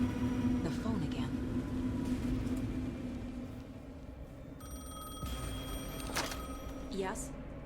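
A telephone rings in the Alan Wake 2 video game, its repeated tones heard against a steady low ambient drone and background hum, with a louder ring burst near the end.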